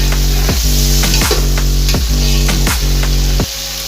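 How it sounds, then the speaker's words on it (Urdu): Chopped bell peppers fry loudly in oil, a dense continuous sizzle broken by regular stirring strokes about every half second, with deep humming cookware underneath before the last stroke lets the sound drop. "ہم نے اس کے اندر اب شملہ مرچیں ہم نے ایڈ کی ہیں، ان کو بس 5 سے 10 منٹ تک ہم فرائی کریں گے"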